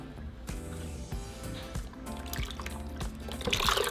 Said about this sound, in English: I'm going to add my 4 cups of beef broth into my blender